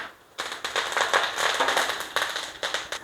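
Mustard seeds, urad dal, cumin, fenugreek, garlic and curry leaves crackle in hot oil for Kerala theeyal, a close run of sharp popping and sizzling bursts after a quiet start.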